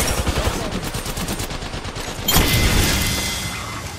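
Rapid gunfire in a video game shooter: dense automatic bursts of shots for the first two seconds, then a louder, heavier volley of fire that slowly fades.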